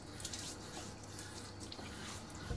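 Tap water runs steadily into a sink while a razor is rinsed under it during a wet shave, a constant close hiss and splash with no talking.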